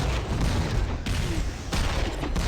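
Dense, continuous gunfire from a shooter video game, a loud sustained barrage of shots and booms with brief dips in intensity and no clear talk.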